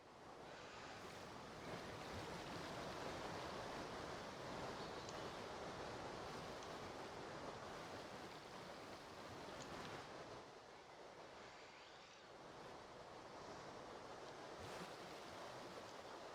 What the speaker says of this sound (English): I mean, that's a waterfall.